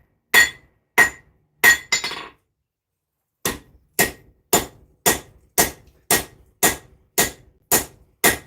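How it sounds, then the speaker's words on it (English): A cross peen hammer strikes metal while forging a mini Zangetsu sword: sharp ringing blows land close by, three quick ones, a pause, then a steady run of about nine evenly spaced strikes. "Using the cross peen again to just get a little bit sharper corners."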